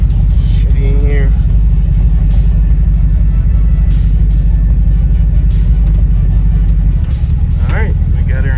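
A Ford Ranchero engine running steadily as it is put into drive, with a loud, constant low rumble throughout and brief voices near the start and the end.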